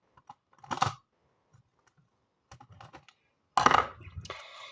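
Adhesive tape being pulled and cut from a roll, heard as two short tearing bursts about three seconds apart, close and fairly loud, with faint handling noises in between.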